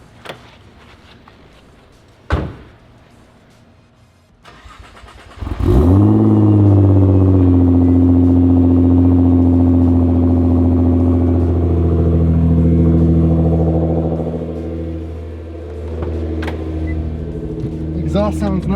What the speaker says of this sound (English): Exhaust sounds nice, man.